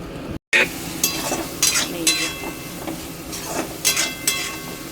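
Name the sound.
onion, ginger, garlic and tomato sautéing in oil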